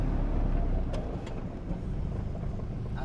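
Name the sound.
Mk1 Golf 1.8T turbo engine and exhaust, deep note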